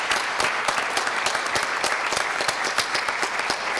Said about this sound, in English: Let's have a round of applause for all three of them.